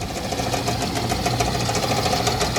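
An old Carrier furnace blower motor runs with a steady mechanical drone and a rapid knocking wobble from its bowed mounting plate, a continuous close, loud hum with fine rhythmic rattling throughout.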